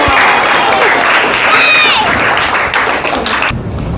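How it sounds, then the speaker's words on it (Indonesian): Applause from a classroom of students, a dense burst of clapping under scattered voices and chatter that cuts off sharply near the end. "Oke, kita tepuk tangan untuk kita semua."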